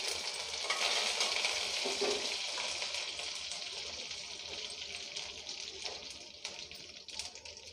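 Mustard seeds, dried red chilli and curry leaves sizzle and crackle in hot oil in a pan close by, a loud hiss at first that gradually eases into a softer frying fizz with scattered pops.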